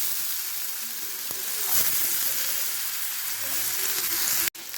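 Cut potatoes dropped into hot oil with crushed garlic: a loud, dense, continuous sizzle close by, with a few faint clicks of a utensil, ending in an abrupt brief cut.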